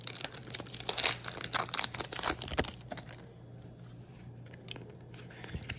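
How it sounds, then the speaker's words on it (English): Scissors snip and rustle through the foil wrapper of a Pokémon trading card pack from a Battle Stadium box, a burst of close crinkly cutting and tearing that fades to quiet handling. "I'm gonna have to open it with scissors from the top."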